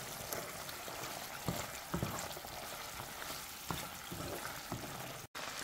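Kidneys and mustard sizzle steadily in a frying pan as a utensil stirs them, with a continuous crackling fry and occasional scraping knocks against the pan, close and alone.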